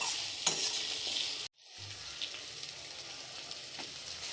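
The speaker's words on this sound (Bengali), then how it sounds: "এখানে শুকনো লঙ্কা, পেঁয়াজ, রসুন দিয়ে দিলাম, আদা। এবার এটাকে একটু ভালো করে নাড়াচাড়া করবো" Dried chillies, onion, garlic and ginger sizzle steadily in a pan while being stirred for a Sunday methi chicken, with a brief dropout midway before the frying hiss resumes close and even.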